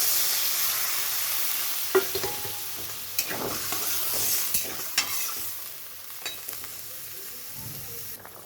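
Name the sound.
water added to frying Gobindobhog rice, sizzling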